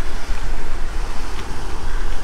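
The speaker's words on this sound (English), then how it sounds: "we wouldn't normally want to travel in wind this strong" Strong wind buffets the microphone at canal locks beside a reservoir, a loud, gusty roar with low rumbling bursts and no voices.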